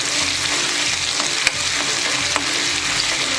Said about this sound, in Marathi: मी 1 चमचा भरून आला लसूण पेस्ट टाकणार आहे, मिक्स करून घ्यायचं आहे